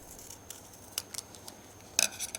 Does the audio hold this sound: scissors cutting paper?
yes